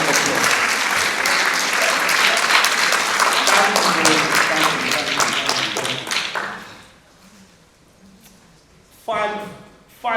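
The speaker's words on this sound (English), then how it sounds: "I think I might deserve a round of applause." A large audience claps in a dense, loud round of applause for about six seconds, then it fades to near quiet, with a brief burst of clapping returning near the end.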